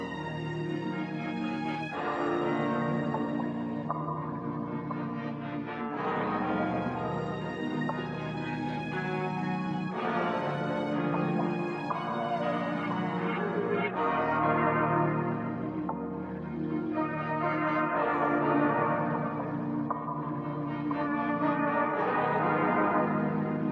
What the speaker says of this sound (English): after the sample is exported, I just brought it down 3 semitones just to make it a little bit more darker